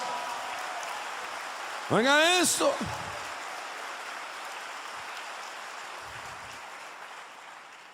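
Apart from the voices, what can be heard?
congregation applauding in church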